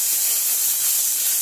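Dried chili and bay leaf sizzle in hot oil in a wok, a steady bright hiss and crackle, close and loud for a brief moment with no talking.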